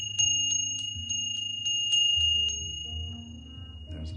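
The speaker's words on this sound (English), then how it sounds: "Ring the Ganesh bell." A Ganesh bell rings with clear, sustained metallic tones struck in a steady rhythm of about a dozen quick chimes, then fading, with low drone-like tones beneath and no talking.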